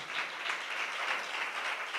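A church congregation claps hands in praise during worship, a dense, even wash of many hands at moderate distance, continuous and without voices.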